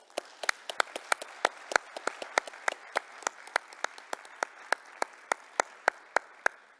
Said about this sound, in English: I would like to give you a big applause.